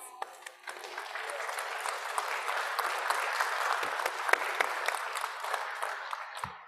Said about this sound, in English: Receive them please with applause.